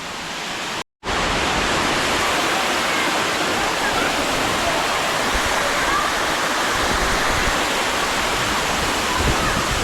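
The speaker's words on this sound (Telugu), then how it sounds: "చూసారుగా ఇదే కటికి వాటర్ ఫాల్ అనమాట" Katiki waterfall in Araku valley roars steadily as a dense, broadband rush of water, loud and continuous, briefly cut to silence near the start.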